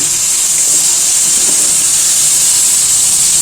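Mutton pieces and marrow bones sauté for biryani in a pan, giving a loud, close, steady hissing sizzle that holds unbroken throughout with no talking.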